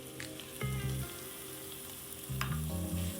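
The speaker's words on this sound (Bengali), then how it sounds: "সবজিটা একটু ভাজা হওয়ার পরে আমি এর মধ্যে মাশরুমটা দিয়ে দিচ্ছি।" Mushrooms and chopped vegetables fry in a pan for mushroom fried rice, giving a steady close sizzle with a couple of brief stirring bursts and no speech.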